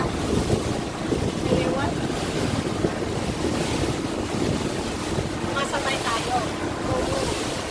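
Big sea waves and strong wind buffet a boat on the way to Shark Island off Khor Fakan, a steady roar of surf and wind noise hitting the microphone throughout, with people talking now and then.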